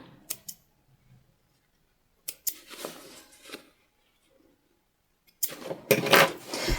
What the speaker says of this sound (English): We'll cut our threads off here.